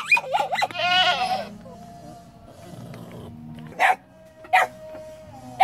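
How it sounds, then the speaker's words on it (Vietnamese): Goats bleating in a home garden in rural southern Vietnam: a long, wavering, nasal bleat first, then two short, sharp calls later, close and clear over a quiet background. "Sẵn tranh thủ ra vườn quay lại quay phim mấy con dê"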